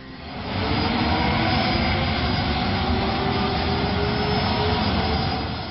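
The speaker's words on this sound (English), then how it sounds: "I was just absolutely awestruck by the sound, the noise, the motion of the airplane." Jet engines of a Boeing B-52 Stratofortress bomber in flight give a loud, sustained roar that swells in within the first second, then holds steady and dense throughout with no voices.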